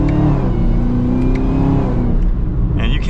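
A 2023 Chevrolet Camaro ZL1 with a supercharged V8 revs hard under acceleration, giving a loud, deep, rising engine roar heard close from inside the cabin, which settles briefly before a higher whine at the end.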